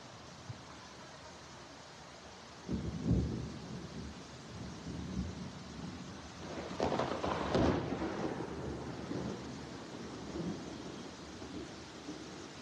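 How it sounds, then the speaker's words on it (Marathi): Steady heavy rain hisses throughout during a storm in Pune, India, broken by low rumbling bursts of thunder that swell and fade. "पुणे शहरात विविध ठिकाणी मुसळधार पावसाने हजेरी लावली"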